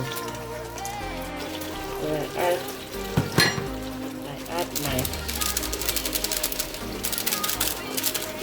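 Tomato puree for jollof rice fries in a pot, giving a crackling, spattering sizzle that grows busier in the second half, with clattering stirring along the way.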